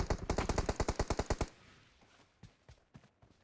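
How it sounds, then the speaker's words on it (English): Rapid automatic gunfire from a mobile shooter game, a loud burst of about a dozen evenly spaced shots, then a few scattered, fainter single shots with no talk over them. "Whoa, who's shooting at me, bro?"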